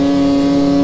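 Jason's Chaos Boost snowmobile with a lightweight hood, its engine droning loud and close in a steady, sustained tone for a brief moment.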